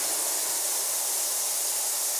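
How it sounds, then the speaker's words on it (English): An ultrasonic cleaning tank whose bottom is driven at about 30,000 cycles per second by resonant transducers, giving a steady, even hiss of mechanical vibration that holds unchanged throughout with no talking. "What you're hearing there is the resonant transducers and the mechanical vibration that's going on."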